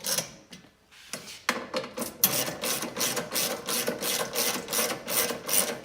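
Bolts being tightened on a rear-door MOLLE grid panel of a Jeep Wrangler JL, with a dense, steady train of rapid ratcheting clicks that picks up after a brief quiet start and continues close and fairly loud without speech.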